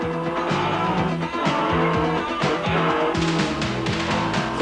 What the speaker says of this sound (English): The awesome Quattro, developing about the same horsepower as a Formula One car in race trim and with turbo wastegate pressure producing a distinctive sound